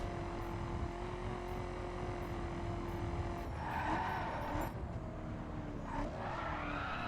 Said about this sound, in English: So I'm driving, this car is street spec at the moment